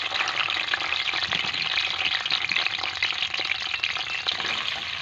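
Finely chopped onion frying in hot oil for village-style peas pulao, a loud, steady, dense crackling sizzle that runs without a break, close up and alone, with no voices.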